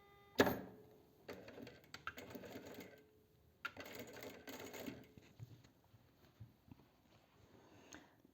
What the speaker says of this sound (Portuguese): E vou costurar esse viés aqui